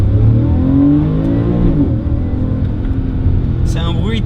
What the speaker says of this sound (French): C'est un bruit très Porsche.